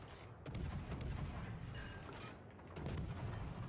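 Naval artillery fire in the World of Warships: Legends game, a few heavy booming gun salvos over a constant rumbling battle background, loud and close.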